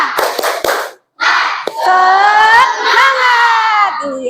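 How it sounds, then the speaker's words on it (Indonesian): Classroom children perform the 'tepuk semangat' clapping chant: sharp claps at the start, then a loud burst of young voices chanting together in unison close by, which fills most of the clip. "Ibu mau denger tepuk semangat kalian"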